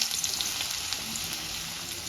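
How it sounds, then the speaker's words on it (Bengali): Diced potatoes fry in oil already used for frying fritters, giving a steady, even sizzle with fine crackling, close and without talk. "এবার এই তেলে, বড়া ভাজার তেলে আলুগুলোকে আমি লাল লাল করে ভেজে তুলে নেব।"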